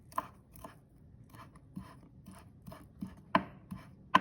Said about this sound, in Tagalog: Mince lang natin yung ating parsley.